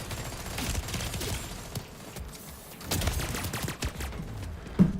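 Shotgun fire in a video game: a few scattered blasts with bursts of rapid gunfire among them, moderately loud over a busy background of game noise.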